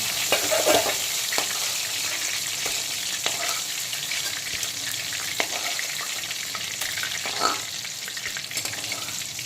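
Pieces of rohu fish fry in hot oil, a steady close sizzle with occasional louder pops and spatters, no voices.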